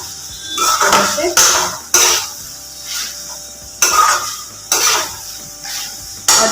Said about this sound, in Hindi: जो आलू बॉयल करके रखी थी उसको भी इसमें ऐड कर दूँगी। ऐड करके इसको भी अच्छे से इस तरह से मिक्स कर लूँगी।